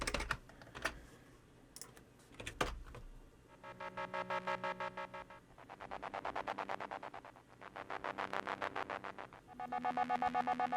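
A synth tone run through a high-pass filter in ChucK pulses in repeated swelling bursts with a thin, bright, bass-less timbre, following a few clicks and taps at the start.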